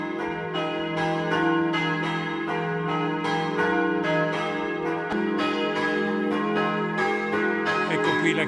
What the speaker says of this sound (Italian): Ascoltiamo il suono delle campane